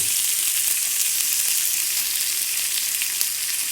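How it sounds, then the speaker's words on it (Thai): A pot of bitter-style beef jaew hon broth at a rolling boil, giving a steady, dense bubbling hiss with small pops, close and continuous with no talking. "เดือดครับเดือด"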